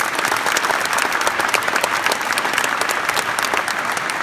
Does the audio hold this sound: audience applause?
yes